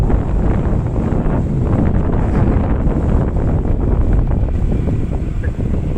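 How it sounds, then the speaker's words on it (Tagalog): Strong wind buffets the microphone, a loud, constant rushing roar with gusty low rumbling throughout. "Sarap ng hangin dito."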